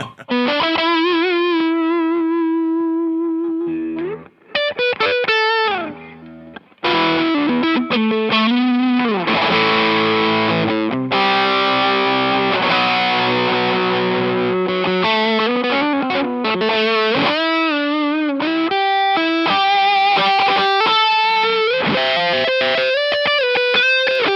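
An electric guitar played through a Greenchild K818 pedal rings out with heavy distorted sustain, holding long notes between bursts of chords and melodic runs, loud and upfront with no talking.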